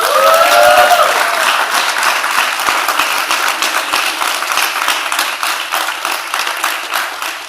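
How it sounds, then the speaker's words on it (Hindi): Loud, dense audience applause at a Hindi-language interview event, a sustained close roar of many hands clapping, with a brief voice at the very beginning. "तालियां होनी चाहिए।"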